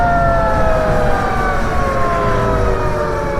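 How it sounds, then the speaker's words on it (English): A carbon fiber e-bike slows under regenerative braking, its electric motor whine gliding steadily downward in pitch over a loud, rushing wind and road noise. "So that's just slowing down with the regen."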